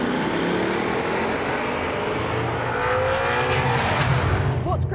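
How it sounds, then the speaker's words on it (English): A Ford Mustang Boss 302 revs loudly and continuously, its new exhaust note rising and rumbling close by, with a voice faintly underneath. "It also has new exhausts, which I think you'll agree sound pretty good."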